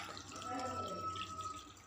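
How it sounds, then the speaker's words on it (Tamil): A glass of water poured into a ground crab mixture while making crab rasam gives a soft, continuous trickle lasting under two seconds, quiet and close. "இனி இதில் 1 கிளாஸ் தண்ணி ஊற்றணும்."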